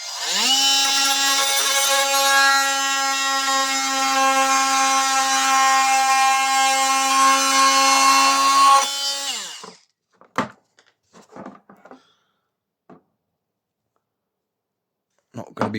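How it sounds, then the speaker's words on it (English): A small multi-tool buzzes loudly and steadily for about nine seconds while cutting down a Makita hedge trimmer catcher plate, then stops and leaves scattered light clicks and handling taps. "So what I'm going to use a little multi-tool"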